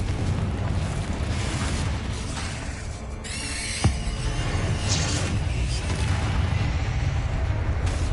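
A Confringo fire spell explodes in the Hogwarts Legacy video game: a sharp, loud blast bursts out of a dense, continuous roar of combat effects, with the rumble carrying on afterward.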